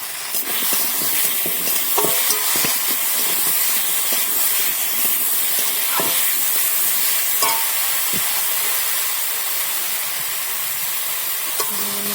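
Masala with whole tomatoes and tomato paste frying in a pan, a steady loud sizzle and hiss with occasional scraping stirs of the spoon throughout, no voices.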